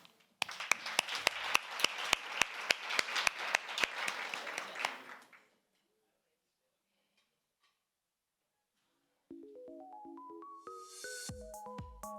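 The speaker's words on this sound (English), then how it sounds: "Round of applause." An audience at a leadership programme closeout ceremony claps in a steady, rhythmic round of applause for about five seconds and then stops. After a silence, a bright rising sequence of tones plays.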